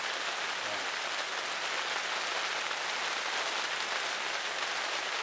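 Rain falls steadily at an evening campsite, an even, close hiss of drops on surfaces that continues unbroken and fairly soft, with no voices.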